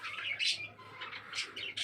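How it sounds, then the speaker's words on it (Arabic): Lovebirds in an indoor breeding room give repeated bright chirps and short squawks in quick bursts, fairly close, with a low steady hum underneath. "هذا مكان مخصص تربية طيور الحب العصافير."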